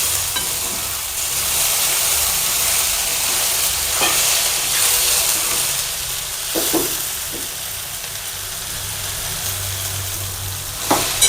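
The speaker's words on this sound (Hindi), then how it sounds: "अब इसे अच्छी तरह से सौटे कर लेते हैं।" A vegetable masala filling for poha kachori sizzles steadily in a pan while being sautéed and stirred. Occasional scrapes and knocks from the spoon rise over a constant frying hiss.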